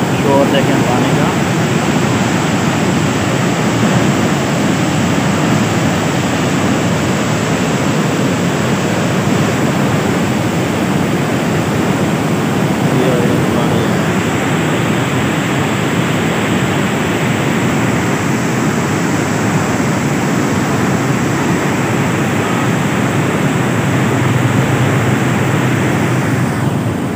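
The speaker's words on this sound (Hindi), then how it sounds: "शोर देखें पानी का," Water rushing through the Taunsa Barrage, heard from the bridge above as a loud, steady, broadband roar that continues unbroken throughout.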